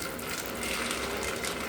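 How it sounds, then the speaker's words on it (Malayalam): Hot water poured over 250 grams of washed green peas, a steady close splashing gush that runs without a break from start to finish. "അതിലേക്ക് ചൂടുള്ള വെള്ളം ഒഴിച്ചു കൊടുക്കാം"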